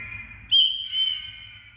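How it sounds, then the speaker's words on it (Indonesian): A short, shrill whistle blown twice, the first blast sharper and louder, the second slightly softer, heard close and alone. "suara peluit"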